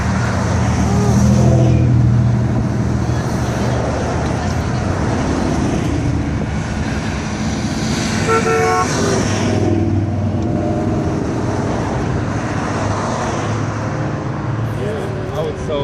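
Classic cars cruising past on a small-town road, engines rumbling and revving as they pass at close range amid general traffic noise, with people talking over them throughout.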